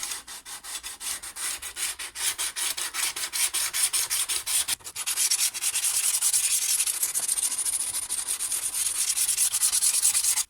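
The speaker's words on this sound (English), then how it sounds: "just get myself a flat surface and my whetstone" Makita DUH601Z hedge trimmer blade being sharpened on a whetstone over a flat surface, a steady, loud rasping scrape of rapid strokes that continues with only a brief pause midway.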